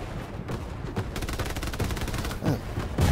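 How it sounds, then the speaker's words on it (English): Sustained machine gun fire in the Hell Let Loose war game, a dense rattle of rapid shots running continuously with distant booms and gunfire layered underneath. "there's a machine gunner just watching behind that tank"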